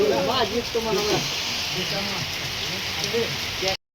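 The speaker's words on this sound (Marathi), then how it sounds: "लय जोर धरलाय पावसानं" Heavy rain pours down in a steady, dense hiss out in farm fields, with voices talking over it through most of the clip.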